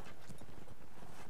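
Horse hooves clip-clop in the multiplayer medieval combat game Mount and Blade: Warband, a quick run of close, loud, muffled beats over a dense blended background.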